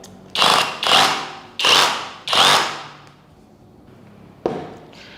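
An SDS Plus drill bit being pulled and clicked into a drill chuck: four loud, close mechanical clacks and slides in quick succession, a quiet pause, then one more sharp click.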